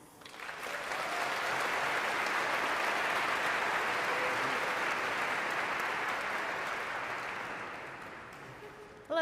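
An audience at a psychology recognition ceremony applauds to welcome a speaker, a dense wash of clapping that swells in, holds steady for several seconds, then tapers off.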